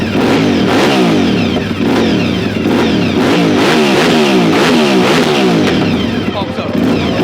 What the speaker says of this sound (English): This company is known for very good performance exhaust, aftermarket exhaust.